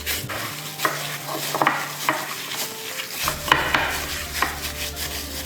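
Hamburger meat being worked together with cornstarch in a bowl, giving soft, irregular squelching and stirring sounds with a few light clinks. Steady and close, with no voices.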